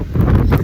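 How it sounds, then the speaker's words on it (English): Strong wind gusting across an exposed snowy mountain ridge in the Sierra wilderness in winter, a steady low roar buffeting the microphone, swelling slightly midway and near the end. "The wind is really picking up on the ridge"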